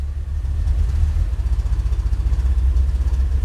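A BMW X3 engine idles with a misfire while cylinder 2 is shut off, giving a steady, loud, low rumble with an uneven pulsing throb and no voices.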